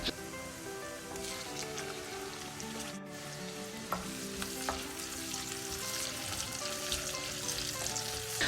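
Chopped onion and butter sizzle steadily in hot oil in a pan, a continuous crackling fry with occasional louder pops and a brief clatter, close and fairly quiet with no talking.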